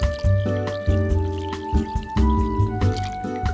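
Half a litre of coconut milk pours into a cooking pot of rice, giving soft wet glugs and drips in an uneven rhythm. The sound is close and fairly quiet, with a steady tonal hum in the background.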